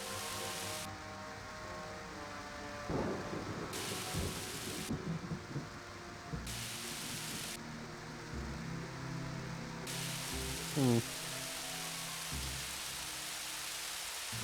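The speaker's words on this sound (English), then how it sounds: "It's really odd that it just started raining there like that." Steady rain falls across a scene in the video game Superman: Shadow of Apokolips, a continuous hiss layered under game music and tones, with a low rumble near the start.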